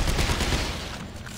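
Gunfire in the sci-fi shooter Dead Space 3 comes as a dense, loud burst of rapid shots that fills the moment and then eases slightly, with no voice over it.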